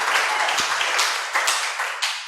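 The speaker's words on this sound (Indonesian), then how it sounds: "Berikan tepuk tangan bagi Tuhan." Church congregation applauding during worship, a moderate burst of many hands clapping with slightly uneven bursts, fairly distant and without talk.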